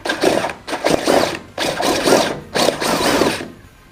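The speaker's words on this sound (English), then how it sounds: "Right, we're going to make the hole bigger." Bursts of harsh rasping from a tool or file enlarging a hole for a headlight multi-plug, five or six rough strokes each about half a second long with short gaps, close and loud.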